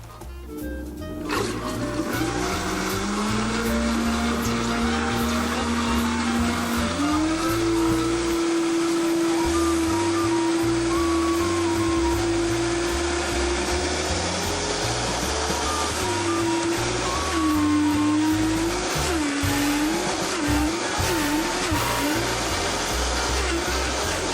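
A Vitamix 5200 blender runs continuously while whipping heavy cream, a loud steady motor whine whose pitch rises and then wavers as the cream thickens, with no talk over it.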